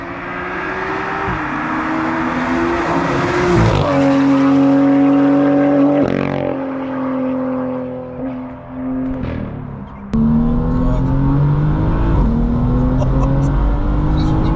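A 550 bhp BMW M2 track car engine revs hard and climbs through the gears, loud and close, with rising whines between shifts and a brief lift before accelerating again.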